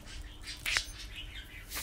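A single budgie chirp rings out briefly over a low background hum, close and fairly clear, with faint rustling around it.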